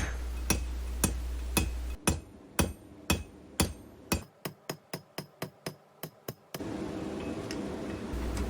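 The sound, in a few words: hammering a metal rose stem flat on an anvil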